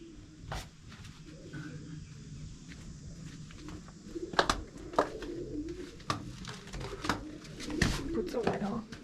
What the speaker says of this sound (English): The birds are going there.